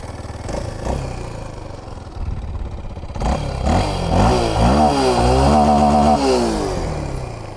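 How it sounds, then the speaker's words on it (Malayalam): A Kawasaki KLX 230 dual-sport motorcycle's single-cylinder exhaust, heard close with a rough idle, then repeated throttle blips rising and falling in pitch, loud and alone. "എക്സോസ്റ്റ് സൗണ്ട് കൂടെ ഞാൻ കേൾപ്പിച്ചു ഇതാണ് സൗണ്ട് കേട്ടോ"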